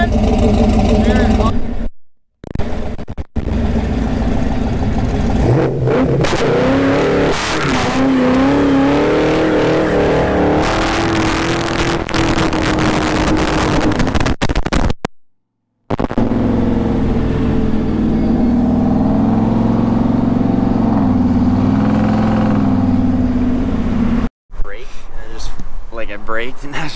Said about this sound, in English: Braked, and I was just like pinned her and it just hooked, and the brakes just were not holding it.